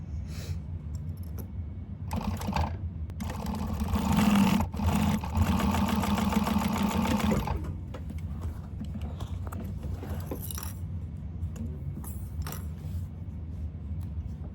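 A sewing machine top stitches a seam on a fabric candy bag in one continuous run of about three seconds. Quieter clicks and handling noises come before and after.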